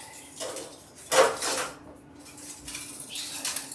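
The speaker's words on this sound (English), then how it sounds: "we're going to put this onto a baking sheet" A silicone quiche mold is set onto a baking sheet, giving a few light metallic clunks and rattles of the pan, with quiet clatter in between.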